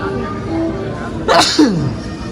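One quick, sharp sneeze close by in a quiet Dean & Deluca café, standing out briefly above soft background room noise and murmured talk.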